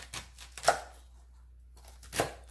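A knife slices through the core of a napa cabbage in a home kitchen while making kimchi, giving three short crunchy cuts with a quiet pause between them, close and fairly soft.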